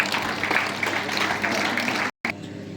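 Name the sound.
audience applause at school assembly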